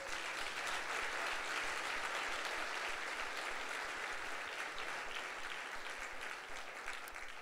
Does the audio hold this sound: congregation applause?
yes